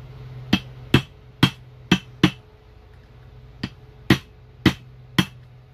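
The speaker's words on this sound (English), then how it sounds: "I use my small screwdriver to stick in here to get these nuts unpegged." A small screwdriver strikes metal while prying pegged nuts loose during the teardown of a 2006 Honda Odyssey transmission, giving sharp, close, ringing taps, five in a quick run, a pause, then four more.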